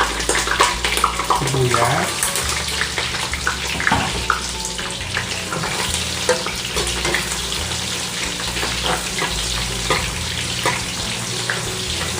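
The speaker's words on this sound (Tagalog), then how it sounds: "Mainit na ating mantika. Ilagay na natin ating bawang." Garlic sizzling in hot cooking oil in a pan: a continuous loud crackling hiss with a sharp burst at the start, then settling into steady frying, while a voice talks softly in the background.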